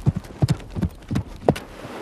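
Horse hooves clip-clop in an uneven, steady rhythm across open Kenyan landscape, paired thuds repeating close by with no voices.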